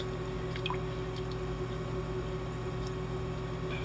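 Handmade beer soap batter being mixed: a steady low hum runs throughout, with faint wet squishes and small drips scattered across it.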